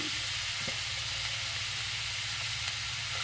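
A loud, steady sizzle of mustard seeds in hot oil fills the pan throughout, with faint pops over the hiss, while cooking stuffed bitter gourd in a home kitchen.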